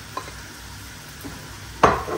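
Chopped garlic hits hot oil in a pan with pepper paste, a soft steady sizzle broken by a few quick stirring scrapes and one louder burst of spitting toward the end.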